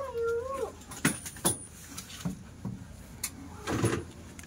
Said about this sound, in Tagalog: May pusa nga eh.